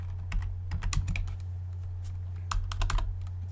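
Bursts of computer keyboard typing, rapid close clicks with a short pause between two runs, over a steady low electrical hum; no one speaks.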